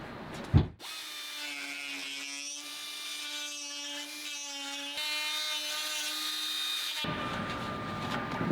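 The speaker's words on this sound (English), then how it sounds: "we're going to use the die grinder to deburr it" A die grinder deburrs a 4-inch hole-saw cutout in a C10 truck bed for a fuel filler neck. After a short thump, its high, steady whine holds for several seconds, then cuts out into a rougher broadband noise.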